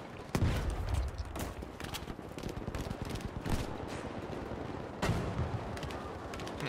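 Gunfire in the shooter Battlefield 5: a string of sharp, loud shots at irregular intervals, with a couple of heavy booming blasts among them, no talking.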